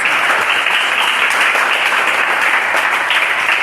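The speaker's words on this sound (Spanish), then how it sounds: "Denle un fuerte aplauso." Dense, loud applause from a church congregation, a continuous even wash of many hands clapping without pause for several seconds.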